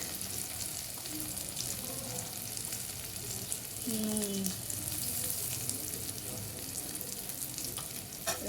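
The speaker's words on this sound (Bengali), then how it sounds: "ভালো করে কষিয়ে নেবো মশলাটা" A spice paste of cumin, chilli and turmeric fries in a pan, a continuous close sizzle with soft stirring scrapes and a brief squeaky scrape of the utensil partway through.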